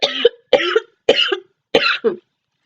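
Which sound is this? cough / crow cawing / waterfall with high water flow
cough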